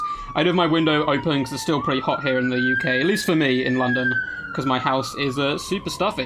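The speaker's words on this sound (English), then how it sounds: "a fire engine going by my house, or an ambulance." An emergency vehicle siren, a fire engine or ambulance, wails outside an open window of a London house, a slow rising and falling tone passing beneath someone talking throughout.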